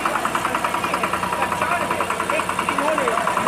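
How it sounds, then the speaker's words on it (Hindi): A tractor ploughs a village farm field during a tribal day event, its engine chugging in a steady rapid rhythm close by, with a voice talking over it. "इसके हाथों में ट्रैक्टर की स्टीयरिंग है और आज इसी खेत की जुताई करते हैं"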